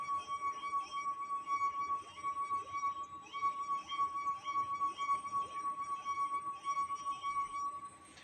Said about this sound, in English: I'll fill this glass completely with water and again produce the sound.